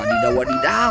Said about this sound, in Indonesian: Ternyata ada ayam berkokok.